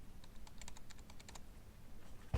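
Soft, quick keystrokes on a computer keyboard while a PO number is entered, a faint burst of clicks with a louder tap at the end.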